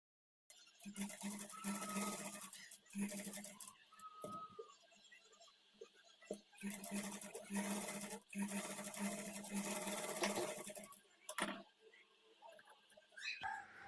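A sewing machine stitching a simple kids peplum blouse runs in quick whirring bursts with short pauses between them, close and steady, while a voice talks faintly in between.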